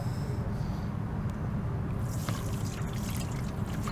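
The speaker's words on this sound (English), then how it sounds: "I'm just gonna strain these potatoes into here." Water poured off cooked potatoes into a strainer in a home kitchen while making potato salad, a steady close trickle and splash running continuously with faint dripping.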